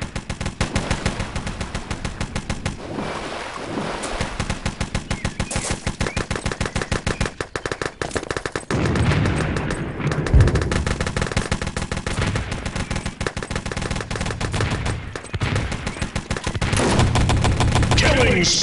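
Rapid automatic gunfire from the World War II shooter Wolfenstein: Enemy Territory, loud and nearly continuous bursts of machine-gun fire with occasional heavier blasts, no talk over it.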